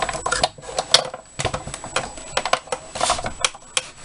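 A die-cutting machine cranking Thinlits dies and plates through for a floral card, giving a close, busy run of clicks and ratcheting clacks at an uneven rhythm, fairly loud with no voices.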